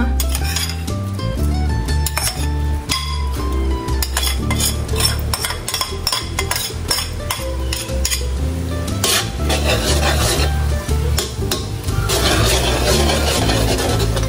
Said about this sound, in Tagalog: Pwede na rin po nating ilagay po itong ating bawang.